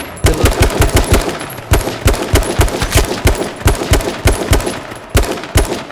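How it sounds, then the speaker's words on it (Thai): Rapid automatic gunfire from the H1Z1 King of the Kill video game rattles out in loud, close bursts of several shots each, with short gaps between volleys, as a car comes under fire. "โดนยิงโดนยิงรถ"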